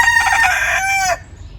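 A single loud rooster crow up close, a strained, drawn-out call that cuts off abruptly into near silence.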